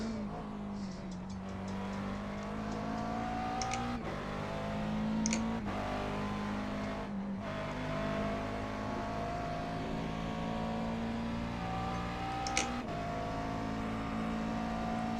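Race car engine from the iRacing sim racing game droning steadily throughout, with a constant tonal hum and brief shifts in pitch as the car drives on, occasional clicks, no talking.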